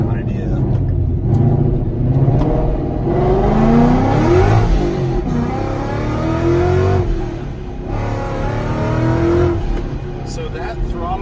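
A Ford Mustang S550 engine accelerating under medium throttle in automatic mode while merging, a loud sustained rising drone with shifting tones and a brief dip, heard from inside the car.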